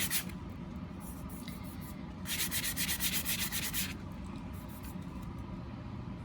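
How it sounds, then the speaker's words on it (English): An epoxy glitter tumbler being sanded smooth, a soft continuous rubbing hiss that swells into faster, brighter back-and-forth strokes midway before settling again, close and fairly quiet. "I'm just gonna sand it to get it as smooth as possible"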